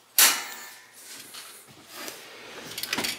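Oven door of a Frigidaire Electrolux induction range is pulled off, a sharp metallic clack followed by scraping and rattling of the metal door and hinges, close up with no voices.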